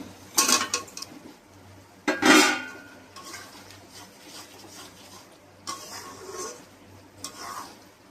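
Fried potatoes tipped into masala for chicken biryani and stirred in a pot, several loud scraping clatters of a spoon against metal with quieter sizzle between, close by, no talk.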